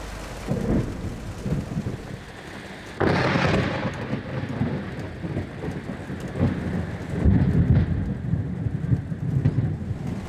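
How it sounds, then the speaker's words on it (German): Heavy thunderstorm over a harbour town in Turkey at midday, with loud rolling thunder breaking out sharply and rumbling on under a constant hiss of heavy rain on surfaces, a second swell of thunder later. "Wir haben hier ein heftiges Gewitter."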